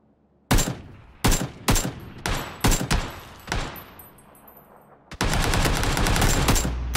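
AKM rifle fire in PUBG: several loud, sharp single shots and short bursts spaced about half a second apart, then a sustained rapid automatic burst near the end, with no talk over it.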